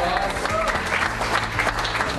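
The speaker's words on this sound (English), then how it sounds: "that deserves a round of applause" A pub crowd at a gourmet pie and pale ale awards event bursts into sustained applause, dense clapping filling the room at a fairly loud level, with faint voices murmuring underneath.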